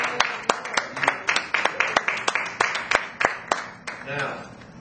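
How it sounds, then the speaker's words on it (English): Church congregation clapping hands at a Sunday morning service: a steady train of sharp claps in fairly regular rhythm, close and lively, with voices mixed in and a softer tail near the end. "Give the Lord a hand clap of his glory."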